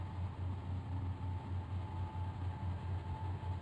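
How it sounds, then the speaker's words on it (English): A train in the Trainz game rumbles steadily with a pulsing low engine throb and broad, even noise throughout, no voices. "All right, so I do hear the train."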